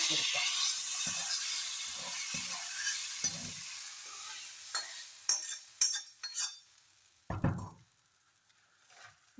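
Jackfruit erissery curry being stirred in a pan: a steady sizzling hiss that fades midway, broken by scattered scraping and clinking strokes, with a few louder knocks near the end.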